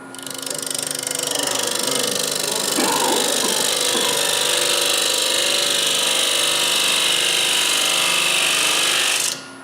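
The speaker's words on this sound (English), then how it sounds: "And then I'll plunge cut to the very bottom of where the natural edge goes." A parting tool plunge-cuts into a spinning natural-edge wooden bowl on a lathe, giving a loud, steady, rattling whine that holds for nearly ten seconds, then stops abruptly.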